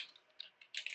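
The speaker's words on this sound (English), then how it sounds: "Now I'm just typing here" Soft typing on a computer keyboard while entering login details: a quiet, uneven patter of small clicks that grows into a quicker burst near the end, with no voice.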